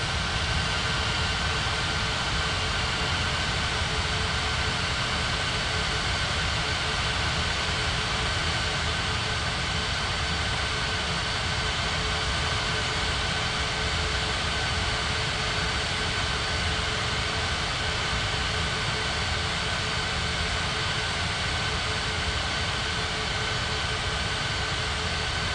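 A Japan Air airliner taxis at Ngurah Rai Bali airport in an ATC simulator game, its jet engines a steady, loud droning whine with a constant tonal hum throughout, unbroken and close.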